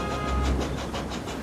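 Sir Handel's train runs fast, its wheels giving a loud, close, rhythmic clatter over a hissing rumble. No one speaks.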